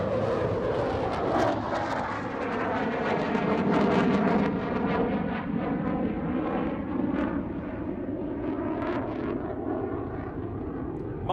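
Fighter jet with carbon fibre composite airframe and a 27mm Mauser gun flying past at the Farnborough International Airshow, a loud sustained roar that swells and slowly fades as it passes, with no talk over it.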